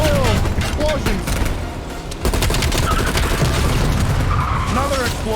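Loud explosions in the video game Call of Duty: Black Ops Cold War campaign boom one after another amid a dense barrage of gunfire-like bursts and rumbling effects, with a voice faintly underneath.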